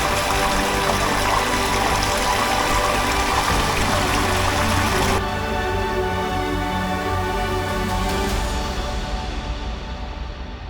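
Waterfall in a hidden gorge pouring down, a loud continuous broadband rush of falling water close by, steady throughout before thinning slightly near the end.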